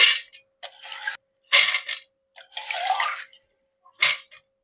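Splashy bursts of water sloshing in a bowl as soaked green gram lentils are washed, several separate washes with brief pauses between, close by.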